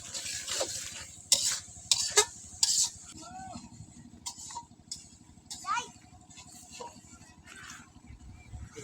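Ground spices fry and are stirred in a pan at an outdoor village cooking spot. A spoon makes several sharp scrapes and clatters over a low sizzle, and people talk throughout.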